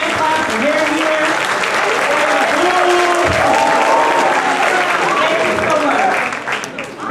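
A debate audience claps loudly and continuously, the applause steady for several seconds before fading slightly at the end.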